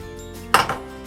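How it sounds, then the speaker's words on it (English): Pasta with Alfredo sauce and vegetables stirred in a pot inside an RV kitchen, one sharp clatter of utensil against cookware followed by a softer scrape, then quiet. "and then you mix it until the Alfredo comes on the pasta and it gets mixed well"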